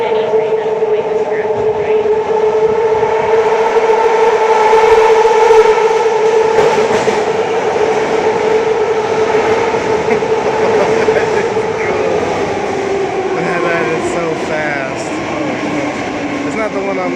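A BART subway train pulls into a San Francisco station, loud and close, with a sustained metallic squeal and layered tonal whine over rumbling wheels. The whine slowly falls in pitch as the train slows.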